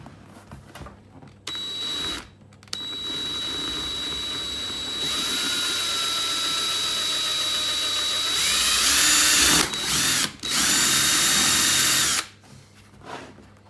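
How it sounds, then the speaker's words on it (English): A power drill with a 7mm bit whines steadily, running continuously for several seconds with its pitch shifting under load, then stopping and briefly restarting near the end. "Okay, 7mm drill bit now."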